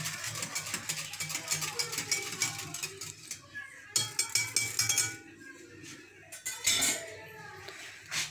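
Glasses clinking and being handled while homemade yogurt is poured, scattered light chinks and taps close by, with soft background noise between.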